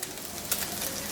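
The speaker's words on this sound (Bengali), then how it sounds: "মুরগিগুলা পছন্দ মতো বাদামি করে ভাজা হয়েছে থাকলে আমি এর মধ্যে দিয়ে দিচ্ছি ফালি করে রাখা 3 কোয়া রসুন।" Sliced garlic cloves frying with browned chicken pieces in a pan, a short, soft, steady sizzle with a couple of brief scrapes, close and without talk.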